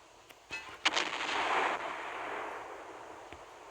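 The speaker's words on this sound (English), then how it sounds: "he is coming under the direct fire." Naval gunfire in the video game Naval Creed: a couple of sharp faint reports, then a louder booming blast with a rolling roar that fades out over a few seconds, heard alone at moderate distance.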